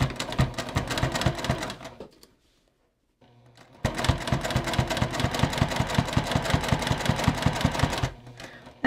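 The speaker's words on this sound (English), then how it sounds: "I'll do a back stitch and cut my thread." Sewing machine running in two steady bursts of rapid stitching while sewing a fabric Easter bunny treat bag, the second longer run closing the seam with a back stitch, separated by a short pause.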